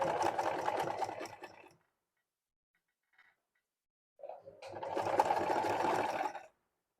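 Sewing machine stitching a frill onto a small festive dress for a Laddu Gopal idol, two loud, steady runs of rapid mechanical whirring separated by a couple of quiet seconds with a faint click between them.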